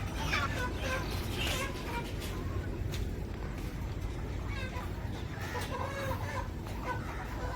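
Many chickens clucking and squawking during catching at a poultry farm, a continuous dense flock clamor with occasional louder squawks over a steady low rumble, with some voices in the background.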